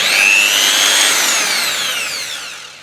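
A cheap, poor-quality electric drill runs at high speed on motorcycle tank bodywork, a loud whining buzz that wavers and slowly drops in pitch as it winds down.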